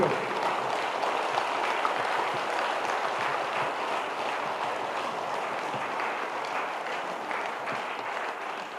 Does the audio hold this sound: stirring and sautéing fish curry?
no